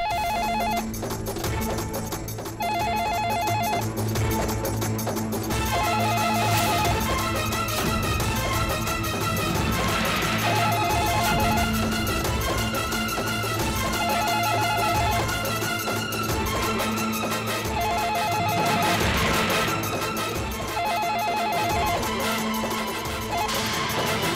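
A telephone rings in a tense household scene from a Hindi TV drama, repeated ring bursts recurring over a loud dramatic music score, with no talk.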